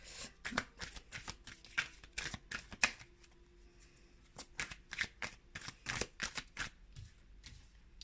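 Tarot cards being shuffled during a reading: crisp, rapid riffling bursts and flicks of card stock repeat in quick irregular clusters, close and dry, against an otherwise quiet background.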